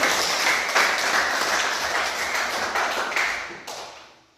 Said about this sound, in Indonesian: Ya, kita beri tepuk tangan.